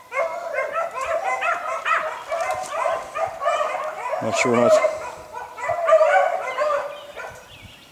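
A pack of hunting dogs barks and yips steadily in an excited chorus that carries through the whole stretch, with someone speaking over the pack at moments.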